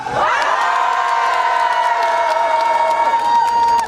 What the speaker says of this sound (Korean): 자 제가 시작 하면은 이제 함성 소리를 질러주시면 됩니다